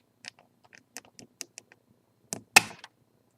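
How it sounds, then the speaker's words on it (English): A Birchbox beauty product is handled up close in a quiet room: a string of small plastic clicks and taps from the lid, then one sharper, louder pop as it comes open. "we're just gonna listen to the lid opening and spray a little bit for the scent"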